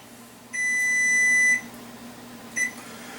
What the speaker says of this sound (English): once your timer goes off,